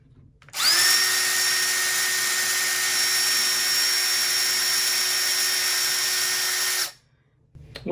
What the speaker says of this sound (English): Once you've got your hole drilled